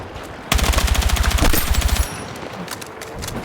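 Automatic gunfire in Battlefield 6 rips out as a rapid, evenly spaced burst of loud close shots lasting about a second and a half, then cuts off to quieter ambient game noise.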